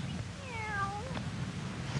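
A black cat meows once, a clear close wavering cry with a falling pitch, over a quiet background.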